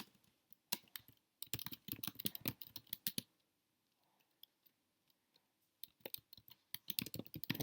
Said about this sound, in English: And I'm just going to type in something here.